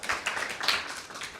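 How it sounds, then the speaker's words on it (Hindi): Audience clapping at a Christmas Bible quiz prize presentation: a short, close burst of many hands applauding, with no talk over it. "आपकी भरपूर तालियों में।"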